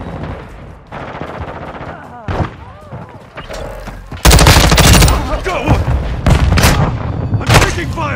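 Rapid automatic gunfire bursts and heavy booms from Call of Duty: Modern Warfare II online multiplayer, loud and close, with bursts intensifying midway, while radio-style voices talk intermittently.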